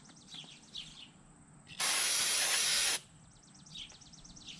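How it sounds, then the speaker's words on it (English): An aerosol can of brake cleaner sprays during car work in a garage: one loud, steady hiss lasting about a second, close by, with faint birdsong before and after. "I'm going to take a little brake cleaner and spray it out."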